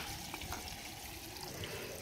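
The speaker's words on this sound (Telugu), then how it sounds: "సో అట్లా తిప్పుతానే మనకి నీళ్ళు వచ్చేస్తాయి" Water runs from a tap to water plants outdoors, a steady faint rushing and splashing stream heard continuously and alone.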